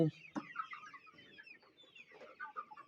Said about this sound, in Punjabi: ਇਹ ਡਬਲ ਐਫ ਜੀ ਦੇਸੀ ਮੁਰਗੀ ਤੇ ਮੁਰਗਾ ਹਨ